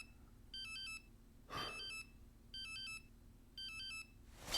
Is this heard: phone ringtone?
yes